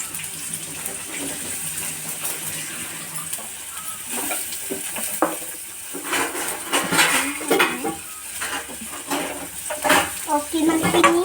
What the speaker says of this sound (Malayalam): കടുക് പൊട്ടിയിട്ട് നമുക്ക് അതിലേക്ക് സവാള ഇടാം.